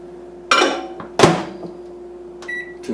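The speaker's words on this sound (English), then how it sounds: "Get a measuring cup full of water, put it in your microwave" A microwave oven with a measuring cup of water inside is set and started in a home kitchen: two sharp thunks from the door or buttons, then a steady low hum, with faint high beeps near the end.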